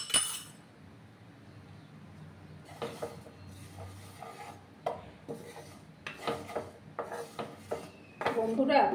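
White sesame seeds tipped into a pan and dry-roasted for a sesame potato dish, giving scattered clinks, scrapes and rustling stirring strokes, louder and busier near the end.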